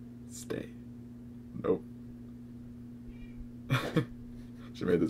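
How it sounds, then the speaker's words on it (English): A cat lets out a few short, separate meows while being picked up and held for a green-screen shoot indoors, each call brief and fairly close, with quiet pauses and a steady low hum between them. "She made this ridiculous meow every time you picked her up."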